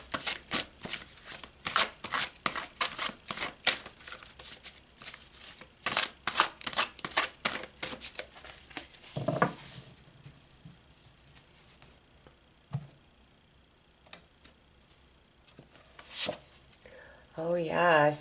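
Tarot cards shuffled by hand in a quick, steady riffling patter for about nine seconds, then a few softer scattered card flicks and handling rustles with some faint talk near the end.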